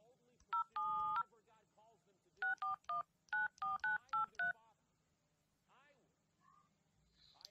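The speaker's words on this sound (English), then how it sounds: "I'm going to dial the code here." Telephone keypad tones as a code is dialed, about a dozen short clean beeps in quick groups, fairly faint, with a few soft background noises and no talk over them.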